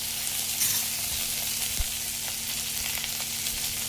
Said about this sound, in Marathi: कढीपत्ता टाकून घेऊया, त्यामध्ये लसूण टाकूया